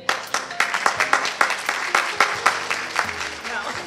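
Guests at a wedding reception clap together in a steady burst of applause, with sharp individual claps standing out over a dense, fairly close patter that holds through to the end.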